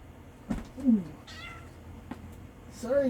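A cat meows indoors, two short close meows about two seconds apart, with a person speaking briefly between them.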